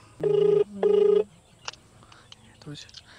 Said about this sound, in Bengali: রিং হচ্ছে।